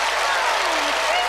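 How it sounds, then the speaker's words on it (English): A studio audience at a Penn and Teller magic show applauds for an on-stage helper, a dense, even wash of clapping filling the whole moment with no talk on top. "Give Allison a big round of applause as well"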